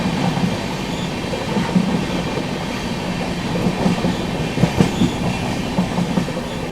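Grand Trunk Express pulling into Sirpur Kagaznagar railway station around a curve, loud continuous rumble of coaches with rhythmic clickety-clack of wheels over rail joints and occasional wheel squeal, heard up close without talk.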